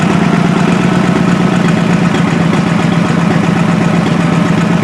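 A 1995–1996 Honda Shadow ACE 1100 motorcycle engine idles fast and steady after a carburetor rebuild, a loud close rapid even pulse throughout, no talk.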